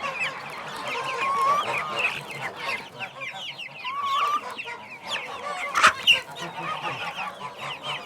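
Chickens and young chicks cluck and peep steadily while pecking at walnuts in a farmyard, a busy, close flock chatter with a sharper squawk near the middle.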